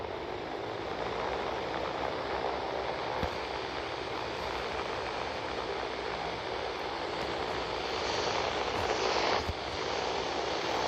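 Steady, continuous broadband drone of B-17 bomber engines in a flight video game, holding at an even level throughout with a slight swell near the end and no talk over it.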